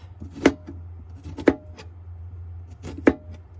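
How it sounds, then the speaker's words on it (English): A knife slices through squash on a cutting board, three sharp, fairly loud chops spaced about a second apart with quiet gaps between, over a low steady hum. "now I'm going to slice up some squash"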